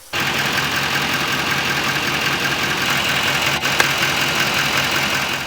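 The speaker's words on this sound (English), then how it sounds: "And crank her up, checking to see her build oil pressure" An LML Duramax diesel pickup engine idles steadily right after starting, a continuous, fairly loud even rumble with a light clattery diesel texture and a brief small tick near the end.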